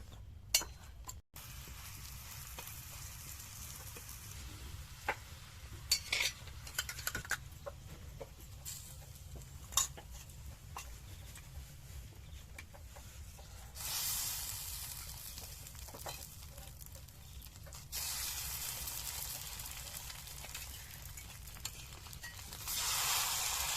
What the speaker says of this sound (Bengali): একটা রোল ভাজা হয়ে গিয়েছে, এইভাবে সমস্ত রোলগুলো ভেজে নেব।